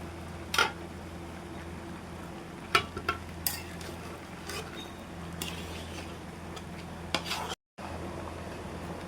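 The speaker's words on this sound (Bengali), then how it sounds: "ডালটা আমি দিয়ে দিচ্ছি, ডালটা দিয়ে আমি কষাই নিব।" Pangas fish heads with potatoes and mung dal being stirred in a pan, quiet scraping and occasional knocks of a spatula over a low steady hum, with a brief dropout near the end.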